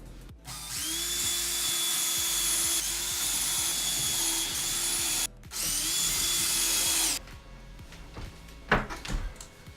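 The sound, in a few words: power drill drilling pilot holes into wall studs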